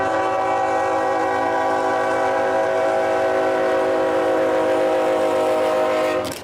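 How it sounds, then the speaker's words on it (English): A freight train rolls past close by with a loud, sustained horn blast, the rumble and drone steady for several seconds before the sound cuts off at the end. "I got a train coming."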